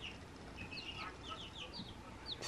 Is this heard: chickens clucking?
yes